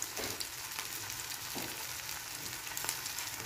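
Mashed-potato patties fry in hot oil in a pan, giving a steady, dense sizzle with light crackles and small pops. The sound is close and continuous, with no voices.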